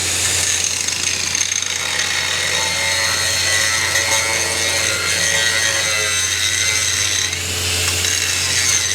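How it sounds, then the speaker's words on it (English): An angle grinder grinds back a weld on a cracked Volvo excavator boom, giving a loud, continuous, harsh metallic rasp that carries unbroken at close range with no talk. "Grind back. Always good to grind back after each pass."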